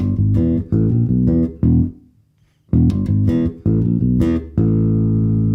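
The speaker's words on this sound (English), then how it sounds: "the variation that we use for the ending guitar solo, which sounds like this" Electric bass plays a variation of a song's riff used under the ending guitar solo, starting on open E; loud, close, repeated syncopated phrases with one short pause, no voices.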